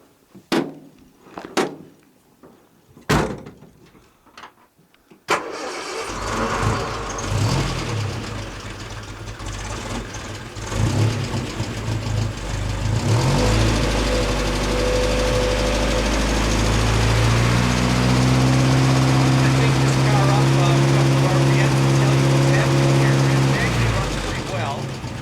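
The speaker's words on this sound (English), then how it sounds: "so I'm going to start it up for you right now." A 1965 Triumph TR-4 has a few clicks and knocks, then its engine cranks, catches and settles into a loud, steady, rough idle up close, with a person talking over it at the start.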